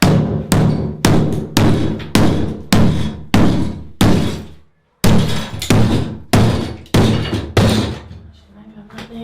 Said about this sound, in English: So this bit's coming off now. Pretty butch with a sledgehammer.